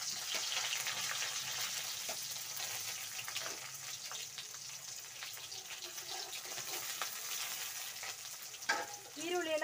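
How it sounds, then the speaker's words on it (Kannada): Chopped onions sizzle in a pan of oil for capsicum chili, a quiet, steady frying hiss with occasional soft stirring scrapes and a brief louder clatter near the end. "ಇವಾಗ ಕಟ್ ಮಾಡ್ಕೊಂಡಿರೋ ಈರುಳ್ಳಿನ ಸೇರಿಸ್ಕೊಳ್ಳಿ."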